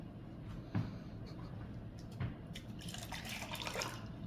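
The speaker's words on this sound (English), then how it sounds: "And pour the water into this." Hot water trickles and splashes as it is poured over a sink to steep yaupon holly tea, a steady close running-water sound with a brief louder splash near the end.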